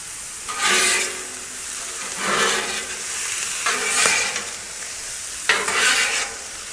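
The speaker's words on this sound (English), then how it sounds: "now we're going to throw the veggies on top of that" Vegetables sizzling on a Blackstone griddle alongside bacon and corn, a steady loud frying hiss broken by several scraping stirs with a spatula, the sizzle swelling with each toss.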